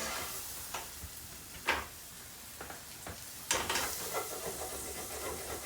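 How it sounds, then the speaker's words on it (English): Onions and spices fry in fat in a pan over moderate heat, giving a soft, steady sizzle broken by a few sharp stirring scrapes and louder hissing bursts. It is fairly quiet and close, with no talking. "We want the onions to become soft and translucent before we proceed."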